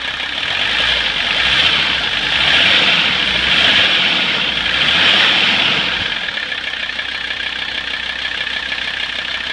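A 1985 Mercedes 300D diesel engine idles after its fuel lines are purged, a loud, steady clattering drone heard up close that swells slightly midway, then settles to an even run with no voices.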